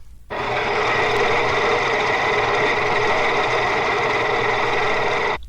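An industrial gear drive running at 1250 RPM starts abruptly and holds a steady, loud mechanical whine with a droning hum for several seconds, then cuts off sharply, heard alone without voices.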